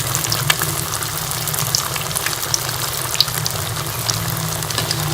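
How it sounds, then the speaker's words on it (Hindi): Egg and potato kebabs frying in oil, a continuous crackling sizzle with small pops and spits scattered throughout, close and fairly loud. "इसको गोल्डन रंग तक फ्राई कर लेंगे दोनों साइड से।"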